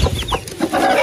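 A chicken clucks and squawks in agitated bursts while being caught, loud and close, with a quick flurry of short sharp calls.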